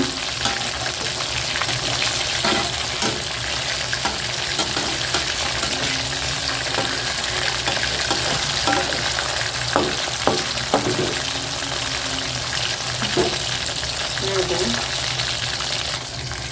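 Spicy prawn 65 fries in a pan of hot oil, producing a continuous dense crackling sizzle with occasional pops and spatters throughout, steady and close.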